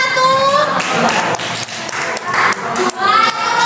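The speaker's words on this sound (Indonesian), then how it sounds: "Tepuk tangan untuk kelompok 1." Classroom pupils clapping for a presenting group, sharp close claps and taps mixed with children's voices and a teacher speaking, the clapping uneven and broken by short pauses.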